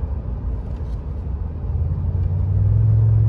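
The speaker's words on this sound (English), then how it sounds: "Kind of have to drop her down a gear and build some boost to get going." A Ford F150 pickup drives downhill in snow, its engine a low steady rumble that builds slightly as it downshifts and boost rises, with no talking.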